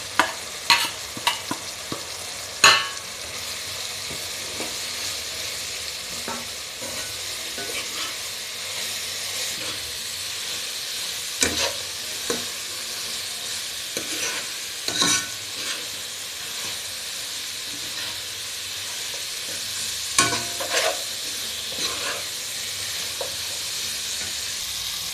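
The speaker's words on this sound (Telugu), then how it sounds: "ఇప్పుడు మనం ముందుగా తీసి పెట్టుకున్న మసాలా పౌడర్స్ అన్నీ వేసేసి కొద్దిగా మిక్స్ చేసుకుంటున్నాం" Chicken tossed with masala powders sizzles in a pan for a simple chicken sherwa, the constant frying hiss punctuated by sharp scrapes and knocks of a spoon stirring, close up and without voices.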